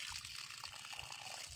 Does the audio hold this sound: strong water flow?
yes